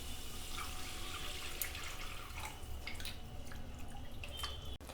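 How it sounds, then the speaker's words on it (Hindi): Water pours steadily into a pan of frying masala for mushroom do pyaza, a soft continuous trickling splash with faint sizzling beneath, quiet and close, with no talk. "देंगे 1 कप पानी को।"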